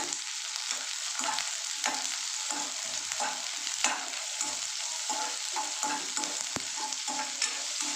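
Onions fry in a pan for a breakfast kabuli chana curry, a continuous soft sizzle broken by repeated scraping stirs of the spatula, close and fairly quiet with no talking.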